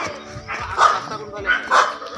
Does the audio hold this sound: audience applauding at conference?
no